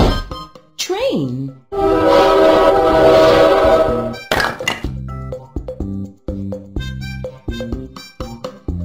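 A train horn blares with rumbling noise for a few seconds. Before and after it come bright, plinking toy-like tones and short vocal sounds.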